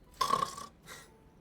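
A sleeping female character in Honkai Star Rail lets out one loud, rough snore followed by a softer breathy exhale, close and alone.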